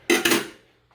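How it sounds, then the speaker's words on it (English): Mead mixture being stirred in a vessel, two quick bright clinks of a utensil against the container up close, followed by a fading ring and a faint knock at the end. "I'm going to stir that up in there."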